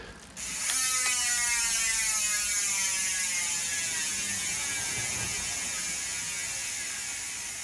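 Hydra bicycle hub freewheel ratchet buzzing as the wheel spins, a loud, fast, continuous high clicking that starts sharply and holds steady, slowly easing over several seconds, close up with no talk.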